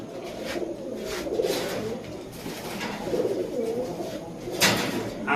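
Female Giribaz high-flyer pigeons coo softly up close in low, murmuring calls, with a brief sharper sound near the end.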